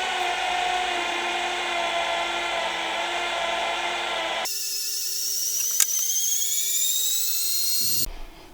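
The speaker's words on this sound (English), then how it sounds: "I'm going to drill a hole so they go straight through into this foot" A battery drill bores a hole through the foot of a standing desk, a loud high whine that steps to a higher pitch midway, runs steadily, then stops abruptly.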